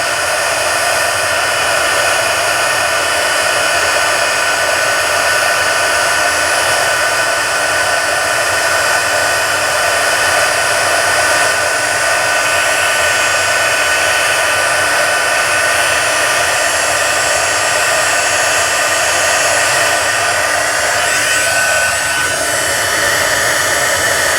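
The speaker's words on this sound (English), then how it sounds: "starting to heat set the emboss powder" An embossing heat tool blows a steady, loud, hair-dryer-like whoosh close by while heat-setting embossing powder on a stamped card, running continuously for over twenty seconds with no pauses or talking.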